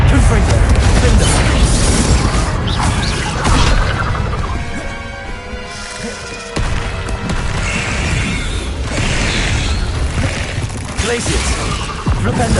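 Confringo fire-spell blasts in the Hogwarts Legacy video game on hard difficulty, loud booming bursts and crashes layered over combat clatter and tonal game effects, with a spell name called out amid the fighting.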